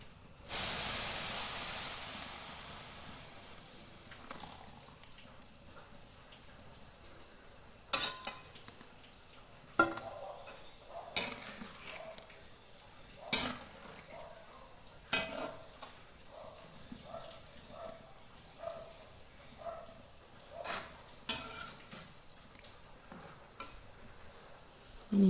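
Cumin seeds simmer in milk in a pan, giving a continuous quiet hiss and bubbling broken by sharp scraping clicks of stirring at irregular intervals.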